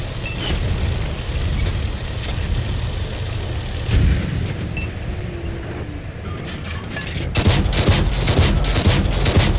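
Tank gunfire and mechanical clatter in World of Tanks on console, a dense, continuous battle din with repeated bursts of shots, growing louder and busier toward the end.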